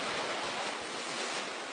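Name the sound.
sea waves on the shore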